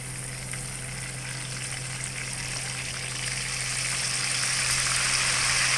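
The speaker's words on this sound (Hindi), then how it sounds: "अब हम इसमें अदरक लहसुन का अरक डालेंगे।" Continuous loud sizzling and bubbling as ginger-garlic water hits hot oil with frying chicken in a karahi, intensifying slightly toward the end.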